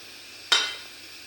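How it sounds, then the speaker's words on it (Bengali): Small fish pieces hit hot oil in a wok with one sudden, close sizzling hiss that tapers off over about half a second against a quiet kitchen background. "কড়াইতে তেল দিয়েছি তেলটা গরম হয়ে গেছে এখন মাছের গুড়িগুলো ভাজা করে নেব"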